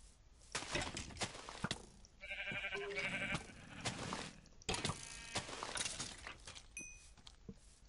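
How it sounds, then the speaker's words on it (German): Several sheep bleat in a blocky video game world, short wavering cries coming in a loose cluster over quiet footsteps and clicks, fairly faint overall. "Oh, viele Schafe."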